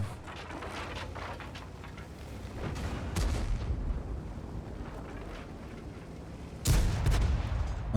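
Tank cannon fire in a World of Tanks style battle on a coastal map, with booming shots near 3 s and a loud blast near 6.7 s over a steady rumbling engine and battlefield din.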